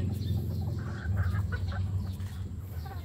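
Naked Neck chickens cluck softly and steadily during feeding time, a low, murmuring flock chatter with a few sharper clucks over a faint background.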